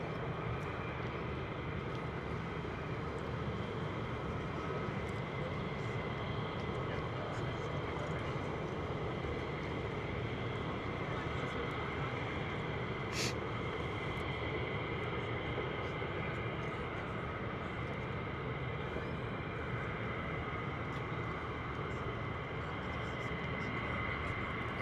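An F-35 fighter jet approaching to land at RAF Lakenheath gives a fairly faint, distant, continuous engine rumble and hiss that holds steady for about twenty-five seconds, with a brief sharp click partway through.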